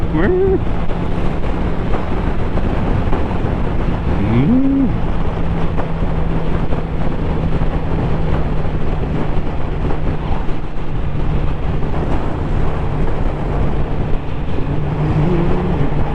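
Loud, constant wind roar buffets the microphone while riding a motorcycle along rural roads, a steady rushing wash that covers everything, with a couple of brief faint tonal whines rising above it.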